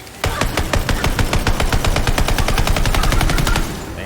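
A rapid-fire gun in Tiny Tina's Wonderlands lets off a long, loud burst of evenly spaced shots for about three seconds, then stops, close and without voices.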